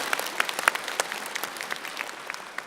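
Audience applause at a Buddhist ceremony, moderate clapping from a gathered crowd heard at some distance, sparse sharp claps over a soft continuous patter.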